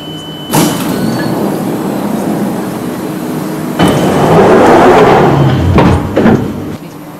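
A passenger train pulls into a station, with a steady rumble of rolling wheels and rail noise that swells midway, a few sharp clanks and bangs over the top, and the roar easing toward the end.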